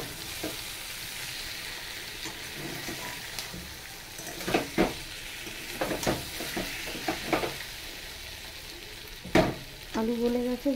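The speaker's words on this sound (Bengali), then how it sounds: "মশলা কষানো হয়ে গেছে, সব কষানো হয়ে গেছে, তেলও ছেড়ে দিয়েছে।" Spice masala paste fries in oil in a pan for a hilsa dish, a low steady sizzle broken by several sharp spatula scrapes and knocks, close and moderately loud, with no voices.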